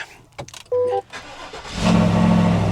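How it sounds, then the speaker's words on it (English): A car engine with a non-factory exhaust fires up after a few clicks and knocks, then settles into a loud, throaty exhaust rumble close by. "that exhaust doesn't sound factory either."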